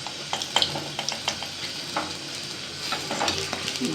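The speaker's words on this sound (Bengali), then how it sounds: "ব্যাটারে চুবিয়ে চুবিয়ে তেলে দিয়ে ভাজবো, গরম তেলে দিয়ে ভাজবো।" Battered chillies fry in hot oil with a continuous close sizzle, broken by repeated sharp clicks and scrapes of stirring and turning.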